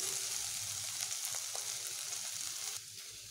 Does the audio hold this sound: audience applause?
no